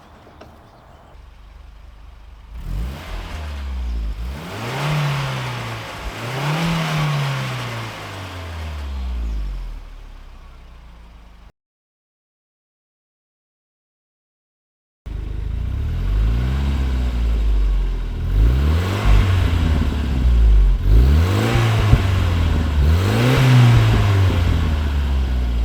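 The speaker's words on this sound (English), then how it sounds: "make sure we can get the car running correctly and that we don't have any leaks" A Volvo 740 engine fitted with a turbo and upgraded exhaust runs loudly up close, rising through repeated revs. A brief silent cut splits it before more strong revving returns, with no talk.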